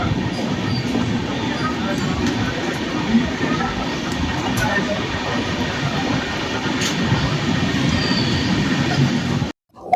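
Coromandel Express passenger train running between Chennai and Howrah, a loud steady rumble of wheels on rails with faint clatter throughout, cutting off abruptly near the end.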